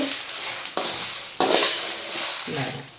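Coriander seeds dry-roasting in a pan for rasam powder, a steady dry hiss with sharp scraping stirs and clinks of a spatula against metal at irregular moments, fairly close and alone.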